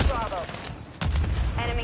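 Short bursts of gunfire in a shooter game, a few sharp, loud volleys close together over a brief stretch, with a little tonal game noise between them.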